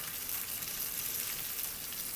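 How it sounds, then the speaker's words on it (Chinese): A sweet corn and vegetable pancake fries in hot oil in a pan, giving a soft, even sizzle with fine crackling that stays steady and quiet throughout. "我们现在要开始煎哦"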